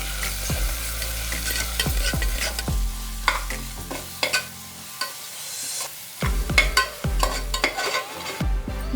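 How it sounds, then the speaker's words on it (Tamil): Ginger garlic paste with green chillies is sautéed in a pan for vegetable brinji rice, with a soft sizzle under repeated close scrapes and taps of a spoon stirring. "1 ஸ்பூன் இஞ்சி பூண்டு பேஸ்ட் சேர்த்து அந்த இஞ்சி பூண்டோட பச்சை ஸ்மெல் போகிற வரைக்கும் நல்லா வதக்கி விட்டுருங்க"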